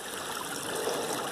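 Water trickling and splashing into a rebuilt farm dam during January prospecting, a steady close rushing flow with no breaks across the short stretch.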